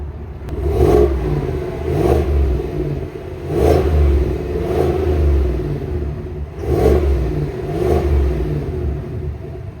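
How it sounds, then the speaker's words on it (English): A 2025 Chevrolet Suburban Premier SUV engine revs up repeatedly, about four surging bursts roughly two seconds apart, each rising and falling back to a rumbling idle, close and loud. "let you know what it sounds like when the engine is revving"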